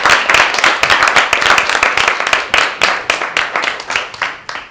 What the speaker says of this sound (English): Let's do a round of applause.